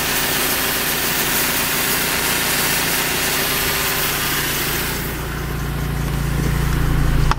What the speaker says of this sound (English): Compressor spins, blast, fans do not move.